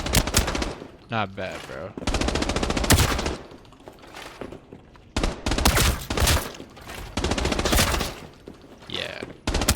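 Assault rifles fire in the shooter game Arena Breakout, in several loud automatic bursts separated by short pauses. Players talk over and between the volleys.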